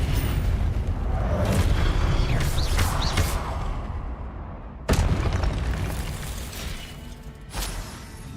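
Fiery Confringo blast spells exploding in the Hogwarts Legacy game, several booming bursts with crackling, debris-like tails, one sharp loud blast midway and a smaller one near the end.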